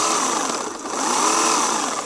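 An AL-KO CS 1825 cordless chainsaw runs with a steady, high-pitched electric motor whine, loud and close, rising slightly in pitch partway through, no voices.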